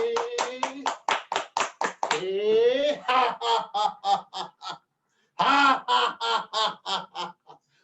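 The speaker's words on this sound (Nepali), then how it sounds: "जोर से ताली" A group at a morning yoga and devotional bhajan session claps in loud, rhythmic unison, steady beats broken by a brief pause and resuming, with sung or voiced sounds mixed in among the claps.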